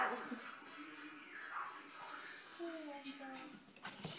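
A puppy whimpers and yips in short, high, wavering cries, close and fairly quiet, while people talk over it.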